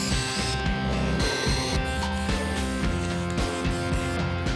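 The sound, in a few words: drill boring a hole in a 2x4 board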